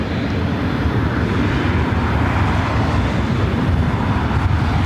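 A Southwest Airlines Boeing 737 MAX 8 arrives at LAX from Sacramento, its engines giving a steady, rumbling low roar that holds evenly for a few seconds with no voices.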